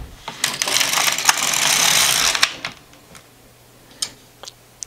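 An LK150 knitting machine carriage sweeps across a row in a single continuous rasping slide of about two seconds, followed by a few sharp clicks and taps of needles and hooks, close by and with no talk.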